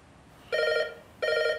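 Telephone bell ringing twice in a quiet indoor room, two loud electronic trills about half a second long separated by a brief pause.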